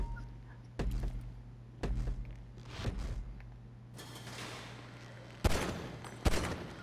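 Gunshots in Grand Theft Auto V at a shooting range, about six sharp, separate loud shots spaced roughly a second apart over a low hum, each with a short mechanical rattle after it.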